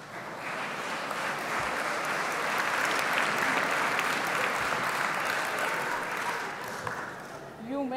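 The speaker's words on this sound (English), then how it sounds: "An applause for her." Sustained applause from a large audience at the International Children's Peace Prize ceremony, a steady dense wash of clapping holding for the full stretch and easing slightly near the end.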